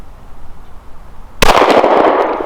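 A Glock .40 Gen 4 10mm pistol with a 6-inch barrel fires one loud, close shot on a shooting range, a sharp crack followed by a brief echoing tail, after a quiet lead-in.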